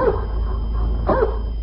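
A dog barks twice, close and loud, in an old-time radio show, two short yelping barks about a second apart over a steady low hum.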